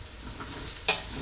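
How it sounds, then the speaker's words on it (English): Potatoes and parsnip sautéing in a pot over medium heat, a soft steady sizzle with one brief clink of a utensil against the pot, close and fairly quiet. "So I keep stirring that around at a medium heat"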